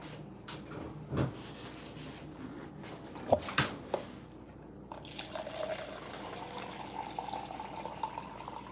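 Water runs from a tap into a glass, a soft continuous pour with a few clinks and knocks before it, faint and close in a quiet room.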